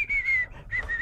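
A person whistles a short melodic phrase of sustained, clear pitched notes in two bursts with a brief gap, heard alone against faint background noise.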